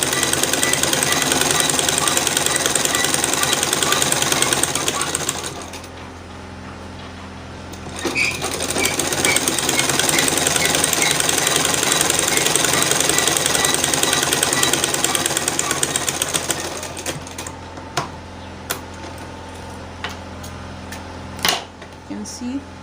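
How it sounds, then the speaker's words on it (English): Electric sewing machine stitching around the edge of a pair of shorts, running in long steady bursts with a brief pause and a stop near the end, close and fairly loud. "I just sewed it all around."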